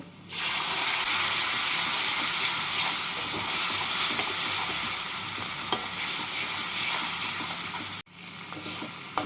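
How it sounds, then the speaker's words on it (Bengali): Ground spice paste fries with browned onions in hot oil for a snakehead fish curry, making a loud, continuous close-up sizzle with stirring. The sizzle cuts out briefly near the end, then resumes. "এবার এর মধ্যে বাটা মশলাটা দিয়ে দেব বাটা মশলাটাকে দিয়ে ভালো করে কষিয়ে নেব"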